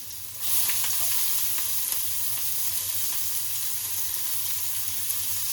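Ginger, garlic and onion fry in a pan with a steady, close sizzle that keeps an even level throughout, with faint stirring clicks and no talking.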